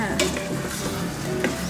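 Green curry with featherback fish balls stir-fried in a pan, a steady close sizzle with scraping stirring strokes and a couple of brief clinks over the bubbling.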